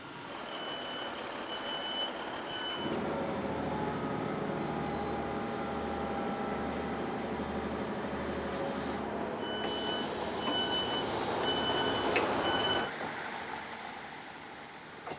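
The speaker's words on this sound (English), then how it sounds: "the sound of the level crossing comes down means our train's about to come" A railway level crossing alarm sounds steady electronic beeping tones while a heavy rumble builds, holds for several seconds, then cuts off.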